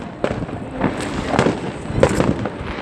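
Fireworks going off during a 2020 display, a run of sharp bangs and crackling bursts at varied distances over a steady wash of crowd and ambient noise.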